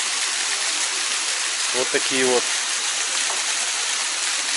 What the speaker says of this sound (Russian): два водопадика.